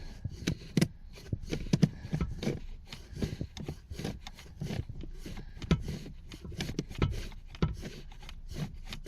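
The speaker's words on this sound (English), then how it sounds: "just get a pair of needle nose pliers and just slowly back it off" Needle nose pliers slowly backing a small bolt off inside a Fiat 500 during a cabin filter change, giving a run of close, scratchy metal clicks and rasping turns in an uneven rhythm with no talk.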